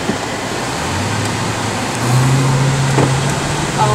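A 2014 Dodge Charger R/T pulls away, its engine note rising steadily and getting louder over a few seconds amid steady road and traffic noise.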